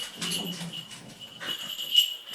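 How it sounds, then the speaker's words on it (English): A dog whimpers and whines in short, high, uneven bursts, close by, with faint jingle bells ringing in the background. "Pardon for the rowdy dog"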